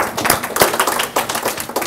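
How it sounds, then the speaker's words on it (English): An audience claps together for a participant during a live money seminar, a dense, steady patter of hands lasting under two seconds, close and fairly loud with no talking over it. "Let's give Harry a clap."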